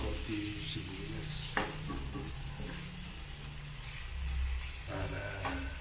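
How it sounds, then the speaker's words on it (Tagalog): Chopped onion sautés in a pan for a Filipino ginataang tilapia dish, giving a steady sizzle with occasional stirring scrapes and a few clinks, close and continuous throughout. "Medyo lalagigin lang natin ng konti yung sibuyas"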